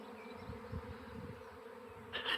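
Swarm of honeybees buzzing steadily around a beekeeper's apiary, a soft continuous hum with a brief louder pass close by at the end.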